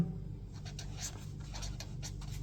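A pen scratches out numbers on a single sheet of paper in short strokes and scribbles, close and quiet against a soft background hum.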